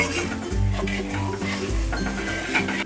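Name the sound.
spice masala with coconut milk being stirred in a pan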